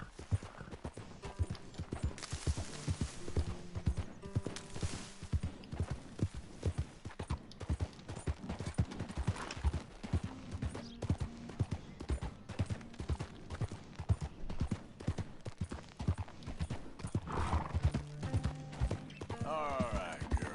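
Horse hooves clip-clop steadily through a Red Dead Redemption 2 game scene, with a regular rhythm that runs the whole time beside other game sounds and a brief whinny, while someone talks over them.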